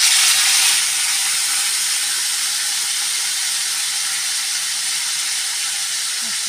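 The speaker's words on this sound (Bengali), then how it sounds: "তো এখন আমি এগুলো দিয়ে দেবো কচুর শাকটা এই তেলের মধ্যে।" Taro leaves hitting hot oil in a pan give a steady, loud broadband sizzle that flares at the start and then holds evenly to the end, with no voices.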